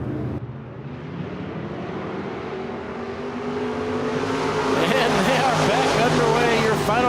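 IMCA Modified race cars get underway in a heat race at Cocopah Speedway, a dense roar of engines building and rising in pitch as the field accelerates, with an announcer talking over it.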